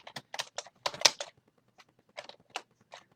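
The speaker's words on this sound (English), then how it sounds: "I just typed this in quickly." Someone types quickly on a computer keyboard, quiet clustered clicks of keys in short bursts separated by brief pauses, heard alone without speech.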